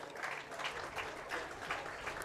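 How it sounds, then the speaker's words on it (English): Crowd applauding sponsors at a county fair beef show, a short burst of scattered clapping in pulsing waves, moderately distant. "Everyone give these sponsors a round of applause."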